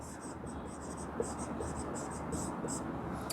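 Scratching strokes of writing on a board during a Class VI Sanskrit lesson, heard as short repeated bursts of soft scraping at a low level beneath a faint background hiss.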